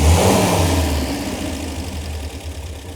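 An MG BGT engine that had sat unused for years, revving briefly and then settling into a steady idle, loud and close with a low rumbling drone.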